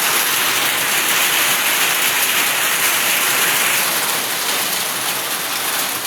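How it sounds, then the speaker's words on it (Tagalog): Heavy rain pours steadily, a loud, dense hiss of drops that stays even throughout with no voices. "Malakas ang ulan, ayun na naman siya."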